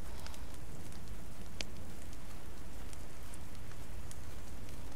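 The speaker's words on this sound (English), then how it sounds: "It's raining." Steady rain in The Walking Dead: The Telltale Series patters and hisses without pause, with scattered sharper drop ticks over a dense wash, fairly close and moderately loud.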